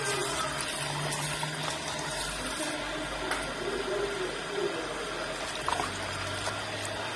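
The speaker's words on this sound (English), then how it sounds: "Rinse the cucumber now for 15 minutes with cold water" Cold water runs steadily from a kitchen tap as cucumbers are rinsed for homemade kimchi, a continuous close splashing and gurgling with small bumps and knocks from handling.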